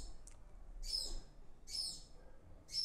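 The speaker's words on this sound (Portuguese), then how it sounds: "pousou um passarinho aqui que tá cantando bastante" A small bird perched nearby sings three short, bright, repeated whistled notes at regular intervals against a quiet background.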